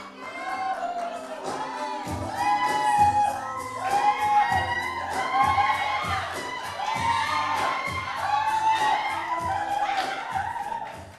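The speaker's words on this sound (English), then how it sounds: "Grabe yung cheer." Wedding guests cheer, shout and whoop loudly as a crowd, steady and close throughout, at a country-style reception in Western Australia.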